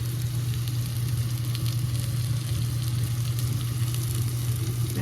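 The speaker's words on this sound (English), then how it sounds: "That's how you sear a roast." A pot roast sears in a hot pan, giving a steady, loud, continuous sizzle and crackle of frying meat without any pause.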